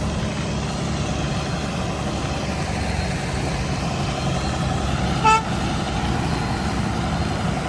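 Road traffic on the Pune to Mumbai route rumbles past in a steady, dense roar of trucks and engines, with one short horn toot about two-thirds of the way through.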